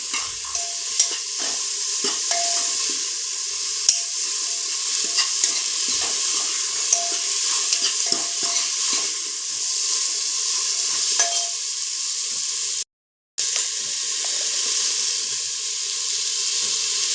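Turmeric stirred into masala frying in a pan, with a steady close sizzle and repeated rhythmic scrapes of the spoon against the pan, broken by a brief moment of silence near the end.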